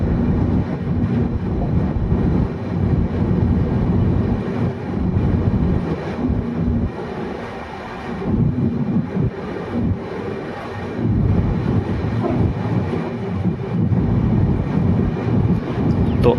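Bhagat Ki Kothi–Visakhapatnam Express moving slowly over a curve near Makrana, a loud continuous low rumble of wheels and carriages with wind buffeting, steady throughout with a brief dip in the middle.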